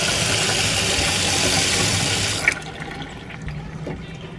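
Water runs steadily from a tap inside a 1960 Chevrolet RV motorhome, a loud close rushing that cuts off abruptly partway through, leaving quiet room sound with faint clicks.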